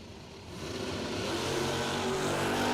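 A Chevrolet Nova and a first-generation Camaro at a drag racing event, engines rising into a swelling roar that builds steadily and stays loud, heard at a distance without talk.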